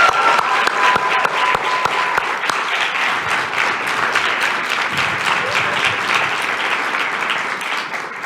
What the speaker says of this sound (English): How about another round of applause for the Arthur L.